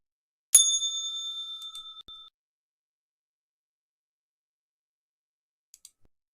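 A single bright bell strikes once with a clear ringing tone that decays over about two seconds, followed by silence and a couple of faint ticks near the end.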